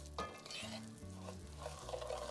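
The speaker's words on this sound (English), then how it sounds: "Just want to stir this up until it gets completely covered with the oil." Onions being stirred in hot oil in a pan, a faint steady sizzle with soft scraping strokes of the spoon, no talking.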